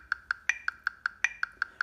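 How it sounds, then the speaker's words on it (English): Metronome set to quarter note equals 80 with its 16th-note subdivision on, ticking steady clicks with a stronger accented click on each beat, close and clear with nothing else heard. "get your metronome out and turn it to quarter note equals 80"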